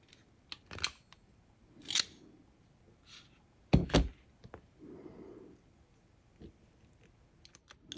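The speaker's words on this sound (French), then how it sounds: "Assurez-vous de bien entendre un clic quand vous insérez les connecteurs." Solar cable connectors, female and male, snapped together during a solar panel installation, giving a few sharp, separate clicks spread across the stretch with quiet gaps between them.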